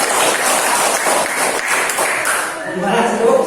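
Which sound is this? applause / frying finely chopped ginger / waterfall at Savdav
applause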